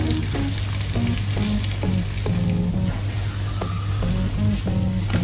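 Chicken karahi paste fries steadily in a pan, a continuous close sizzle with scattered soft pops and occasional stirring scrapes throughout.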